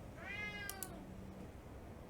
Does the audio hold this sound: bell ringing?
no